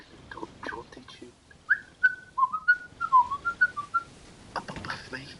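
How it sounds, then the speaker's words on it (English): A melodic whistled tune, bright and bouncy, with short rising and falling notes, between stretches of quiet talking. "Whistling jaunty tune."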